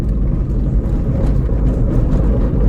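Renault Kwid E-Tech shaking over an irregular stone road, a steady low rumble and rattle of vibration heard from inside the cabin, continuous and fairly loud with no talking.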